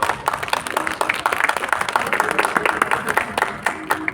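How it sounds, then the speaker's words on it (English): Scattered applause from a small audience at an academic talk, a patter of claps that stays fairly light and uneven throughout. "Can we please have a round of applause for"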